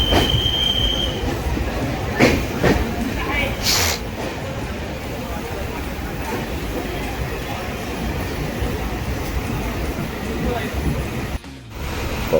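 A train pulls out of Kalyan railway station with a loud, continuous rumble of wheels on rails, brief screeches and clanks, and faint voices beneath.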